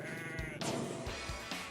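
Sheep bleat on a sheep property in the Flinders Ranges of South Australia, several short wavering calls in quick succession, fairly close and clear over a steady background.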